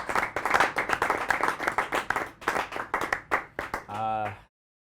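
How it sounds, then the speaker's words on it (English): A team claps in a short burst of applause after a rolling chassis milestone, uneven and fairly close, ending in a brief tonal sound before silence. "First off, big round of applause."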